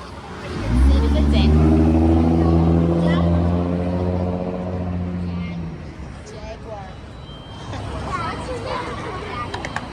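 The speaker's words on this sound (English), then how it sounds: "the busy streets, the buses are like going by, there's streetcars" On a busy city street, a large vehicle, likely a bus or streetcar, passes close by with a loud rising engine drone. It fades after several seconds into general street noise, with voices chattering under and after it.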